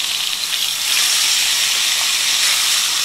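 Steaks sear loudly in a hot skillet, a dense, steady hiss and sizzle that runs without a break and swells slightly after the first second.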